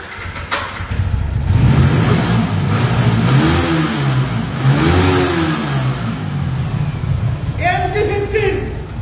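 A Chowdhury Motors MD-15 motorcycle revs under throttle, its rising and falling engine pitch swelling loud and close beneath continuous talking from a man.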